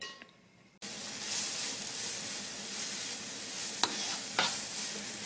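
Onions fry in butter in a pan while meatballs are being made in a home kitchen, giving a steady close sizzle after a sudden start, with a couple of sharp clinks of a spoon or bracelet against the pan.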